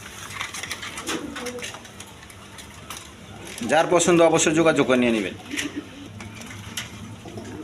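Rasgolla pigeons coo in a loft among birds offered for sale, giving soft, low murmurs beneath someone speaking, with a louder bout of warbling coos partway through.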